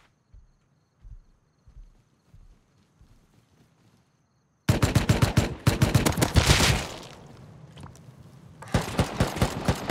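Gunfire in the online survival game Rust: a few faint scattered shots at first, then loud rapid automatic bursts in quick succession, a pause, and another burst of close fire.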